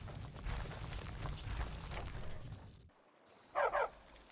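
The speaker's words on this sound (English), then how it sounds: "Bark, bark." A dog barks in the Skyrim video game, with two quick barks close together near the end after a stretch of busy game ambience and a brief lull.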